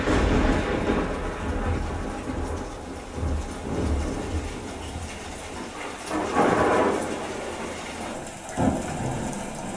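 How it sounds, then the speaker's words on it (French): Binaural recording of a Dolby Atmos rain demo played on a Samsung Q990C soundbar: a steady broadband wash of rainfall, with rumbling swells near the middle and end, continuous and fairly loud, no voices. "je vous ai fait une petite captation binaurale de la démo de la pluie en Atmos"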